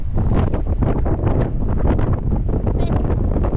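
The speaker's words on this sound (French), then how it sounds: "Il y a du vent" Strong sea wind buffets the microphone by the waterfront in San Francisco, a continuous loud roaring rush with gusty fluctuations throughout.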